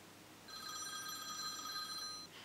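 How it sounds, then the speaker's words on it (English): A mobile phone rings with a bright electronic ringtone of layered steady tones, one unbroken ring lasting about two seconds, fairly loud and close in an otherwise quiet room. "Oh, my phone is ringing."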